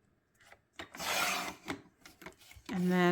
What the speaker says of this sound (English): let's go ahead and cut our 2-inch strip